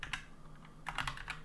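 Quick keystrokes on a computer keyboard, a short burst of close, quiet clicks in an uneven rhythm with no talking.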